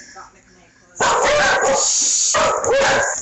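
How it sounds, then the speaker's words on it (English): A house dog barks loudly and excitedly at a visitor arriving at a rural home, a burst of rapid close barks breaking in suddenly after a quieter stretch, with a brief dip before the barking picks up again. "the dog's figured out somebody's here"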